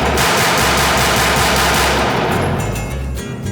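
Rapid automatic gunfire at a shooting range, a dense fast burst of loud close shots running continuously before trailing off at the end.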